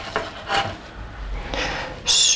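Spelt bread dough lifted from a greased bowl: soft sticky rasps and rubbing scrapes against the bowl, a few separate handling noises close by, ending in a brighter smear.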